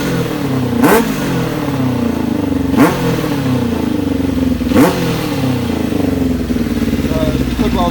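A Kawasaki ZX7R Ninja motorcycle that won't idle properly and sounds like it runs on three cylinders, being revved three times at a steady interval over its rough, close, loud running engine.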